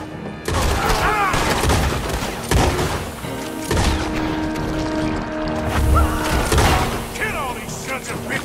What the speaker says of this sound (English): I'm using the repeating shotgun now